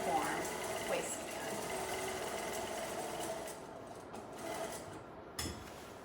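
Sewing machine stitching a scrubs pants waistband, a steady fast mechanical whir running continuously and fairly quiet, briefly easing near the end with a soft clunk.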